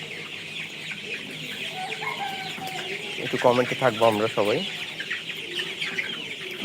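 Chickens cluck in a short burst of repeated calls partway through, while a person talks steadily over steady background noise.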